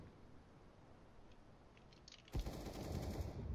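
Gunfire in the video game Counter-Strike (CS:GO): after a quiet stretch of low ambient noise, a sudden loud burst of shooting erupts and keeps going to the end.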